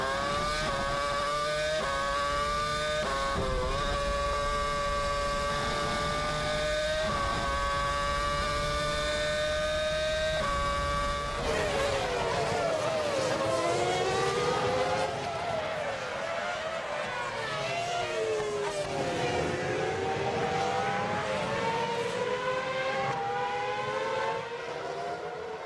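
Formula 1 cars at the 2007 European Grand Prix on a partly wet track, two leaders heading downhill: high-pitched engine whines hold steady, then sweep and overlap as cars pass, loud and continuous without talk.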